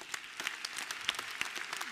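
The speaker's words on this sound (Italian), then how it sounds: "lo applaudiamo" An audience at a university academic-year inauguration ceremony applauds a medical school vice-president, scattered individual claps heard fairly faintly and at a distance in a large hall.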